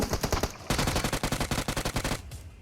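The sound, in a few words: gunfire in the video game PUBG Mobile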